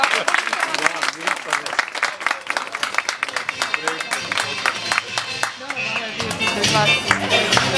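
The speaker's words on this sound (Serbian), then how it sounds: "Dajmo jedan aplauz da vidimo što se ide." An audience applauds at a Maskenbal 2018 masquerade event, with sparse individual claps that thicken into fuller clapping toward the end while voices speak over the crowd.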